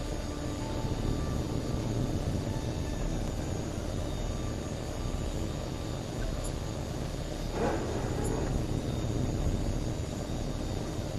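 A fighter jet in the video game HAWX 2 takes off with a continuous, loud engine roar that holds steady throughout, with no one talking.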